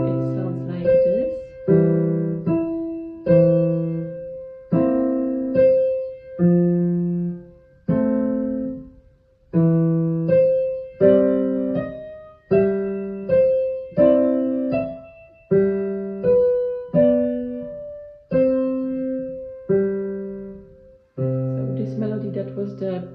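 Piano playing the opening of a ragtime piece, crisp repeated notes and chords in a steady ragtime rhythm, close and clear with no speech.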